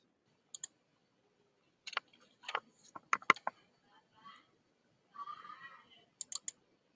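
Crisp computer mouse clicks in quick pairs and small clusters, faint and close, with soft keyboard-like ticks and a brief muffled rustle between them in an otherwise quiet room.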